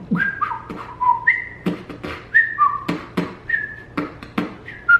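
A person whistles a short melodic tune while beatboxing, bright tones that slide and hold, interrupted by sharp percussive mouth clicks and breaths, close and clear.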